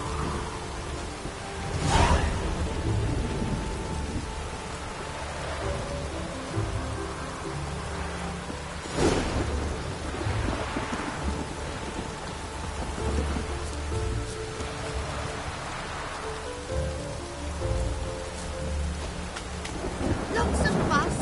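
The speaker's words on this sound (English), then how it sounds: "Lots of fuss over lots of rain." Rain falls steadily in The Witcher 3 video game, with two or three loud rumbling thunderclaps breaking through the constant patter of the storm.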